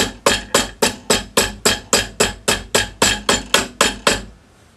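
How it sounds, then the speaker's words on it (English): Tapered plastic hammer striking a metal pendant to form an anticlastic curl: about fifteen sharp, evenly spaced taps, close and loud, each with a short ringing decay, then a brief quiet tail. "you move your hammer slightly to the side and it'll form it into a curl as you're hammering it"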